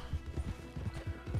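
Horse hooves clop in a quick, even rhythm in Red Dead Redemption 2, close and moderately loud across the whole clip.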